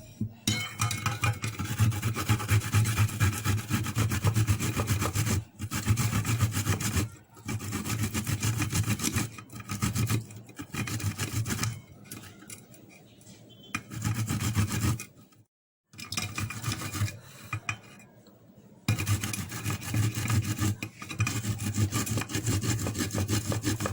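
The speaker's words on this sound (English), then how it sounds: "So I'm going to grate the ginger." Fresh ginger rubbed against a hand grater in steady back-and-forth rasping strokes, loud and close, broken by short pauses between bursts, with no talking.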